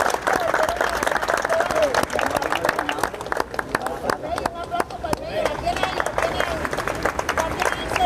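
Contestants and audience at a street challenge competition applaud in a sustained, dense burst of claps that runs unbroken for several seconds, with voices chattering underneath.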